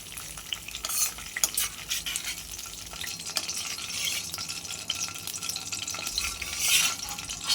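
Sliced okra deep-frying in hot oil gives a continuous crackling sizzle, close and fairly loud, with occasional stirring clinks.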